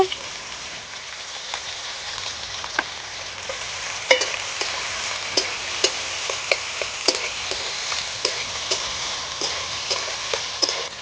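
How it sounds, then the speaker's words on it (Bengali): Chopped capsicum, tomato and green chilli fry in a pan in a continuous close sizzle, broken by regular light scrapes and taps of stirring. "টমেটো আর ক্যাপসিকামটা ভাজা ভাজা হয়ে গেছে"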